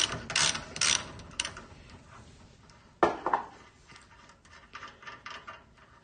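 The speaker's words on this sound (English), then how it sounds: "Now we're going to try and remove that nut and that pitman arm off that shaft. So I'll get my helper here to undo the nut." A ratchet loosens the nut on the pitman arm shaft of a 1969 Fiat 500 F steering box, with bursts of close mechanical clicking broken by short pauses and a sharper clank midway.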